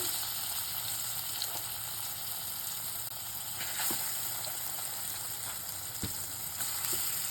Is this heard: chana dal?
yes